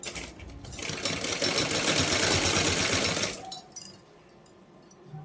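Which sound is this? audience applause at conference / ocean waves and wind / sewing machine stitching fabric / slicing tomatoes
sewing machine stitching fabric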